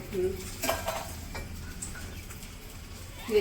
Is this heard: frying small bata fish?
yes